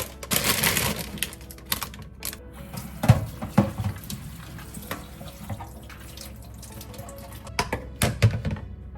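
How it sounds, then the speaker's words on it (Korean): Dried shredded squid is rinsed under cold running water in a sink, with water splashing in uneven gushes and soft thunks and clatters of handling scattered throughout, close by. "일단 얘는 찬물에 한번 헹궈줄 건데"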